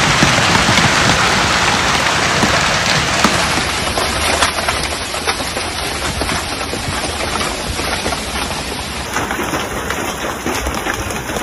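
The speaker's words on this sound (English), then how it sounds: "huge stones began to fall from the sky, creating rattling noises and strong gusts of wind." Hailstones pelt down in a dense, continuous rattling patter with gusty wind, loud and close throughout, with no voices.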